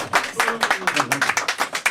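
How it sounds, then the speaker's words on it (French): An audience claps in a brisk, steady rhythm of sharp, close hand claps, with voices mixed in. "Ouais, on l'applaudit avant"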